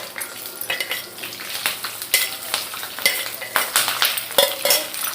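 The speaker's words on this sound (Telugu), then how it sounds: "సన్నగా కట్ చేసి పెట్టేసుకున్న పచ్చిమిర్చి వేస్తున్నాను" Finely slit green chillies drop into hot oil with tempering seeds in a pan, giving a loud crackling sizzle broken by repeated sharp clinks and scrapes of a spoon stirring against the metal.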